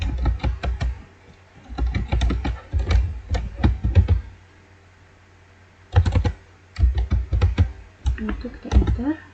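Typing commands on a computer keyboard while configuring a Cisco device: quick, close bursts of clacking keystrokes in several runs, separated by short pauses.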